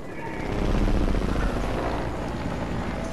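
A helicopter in a multiplayer shooter video game thrums with a dense, steady rotor drone, swelling slightly then holding loud and close, with no clear talk.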